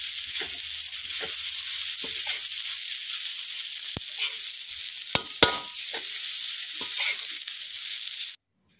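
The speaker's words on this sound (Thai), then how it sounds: "โรยลงไปแล้วก็ผัดให้นัวๆนะครับให้มันแห้งนะครับ" Garlic fried rice is stir-fried in a pan under a loud, continuous sizzle, with repeated clicks and scrapes of a spatula tossing the rice before the sound cuts off abruptly.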